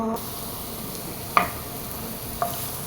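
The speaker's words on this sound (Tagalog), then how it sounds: "luya po yung ating inuunang iprito guys" Ginger frying in hot oil for dry-fried stingray, a steady soft sizzle with occasional louder pops and crackles.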